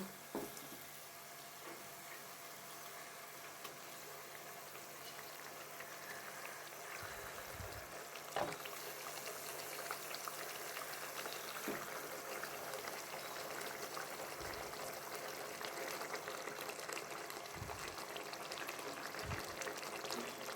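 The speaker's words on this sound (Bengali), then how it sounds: "গ্রেভি ফুটে গেছে, এবার আমি মাছগুলো দিয়ে দেব।" Fish curry gravy simmering in a pan, a steady close bubbling and soft sizzle running throughout with a few brief louder pops and clinks, no voices.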